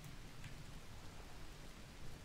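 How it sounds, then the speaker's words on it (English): Rain falls steadily in the video game Dead Island Riptide, a constant soft hiss of drops with no pauses and no voices over it. "It's random raining."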